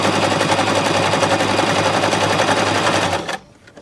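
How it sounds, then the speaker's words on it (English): Baby Lock Zest sewing machine stitching along fabric edges at high speed, a loud close rapid hammering of needle strokes that runs steadily for about three seconds, then stops abruptly. "I'm going to sew basically just right where I've been"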